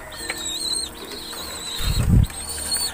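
Racing pigeons in a loft during conditioning for club training, wings clapping and flapping in a sudden burst near the middle as birds rush to a water drinker, with faint cooing and chirps around it.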